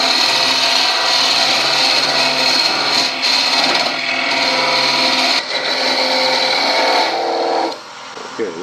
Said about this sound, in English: The thing with the parting tool is you have to keep advancing the tool forward as it goes into the work.